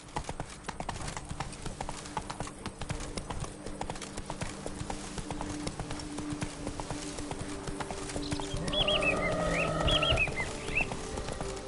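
Roach, Geralt's horse in The Witcher 3, gallops with steady rapid hoofbeats throughout, rising slightly in loudness toward the end, with bird calls faintly chirping near the close.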